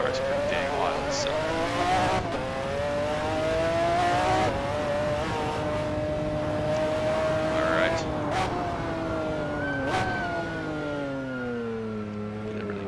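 McLaren F1 GTR race car engine in the Assetto Corsa racing game, revving loud and steady with rising and falling pitch through gear changes over about thirteen seconds, with a voice talking over it.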